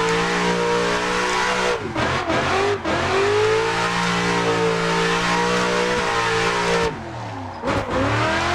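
A BMW E36 engine in Assetto Corsa holds a loud, steady high rev while drifting on the Shadow Valley track, with brief throttle dips and tire scrubbing breaking the continuous growl now and then.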